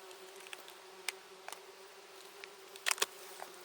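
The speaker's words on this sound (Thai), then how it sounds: "ทำไมมันมีเสียง แตนบินกันว่อนเลย" Wasps flit and buzz near a nest on a Swedish forest floor, with soft intermittent buzzing passes and a few sharper close flybys over a steady quiet background hum.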